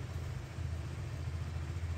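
A KTM 390 Adventure motorcycle engine warms up at idle, a steady low rumble close by with no other sounds over it.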